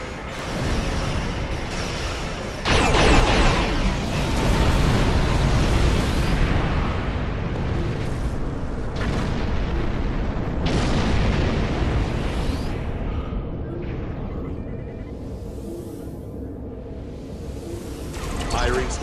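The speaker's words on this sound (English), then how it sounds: "firing station plasma lance in" In the Star Trek Online game, a station plasma lance fires in a series of loud rumbling blasts and roaring bursts, one sharp onset followed by sustained heavy booms, while a voice talks over the action.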